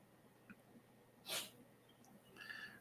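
A cat sneezes once, a short sharp burst standing out against quiet room tone, with faint rustling before and after.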